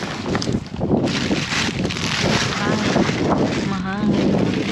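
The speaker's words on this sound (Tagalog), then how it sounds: "Mahangin." Gusty wind buffets the microphone outdoors, a steady rumbling roar that swells and eases, with voices faintly mixed in underneath.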